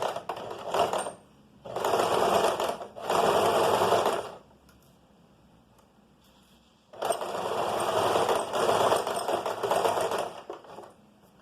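A sewing machine stitches a straight pocket seam, backstitching at the start and end: three short close bursts of rapid stitching, a pause of near silence, then one long steady run.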